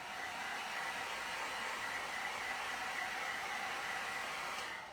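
A hair dryer blows steadily, a loud, even whooshing roar that holds constant throughout with no voices.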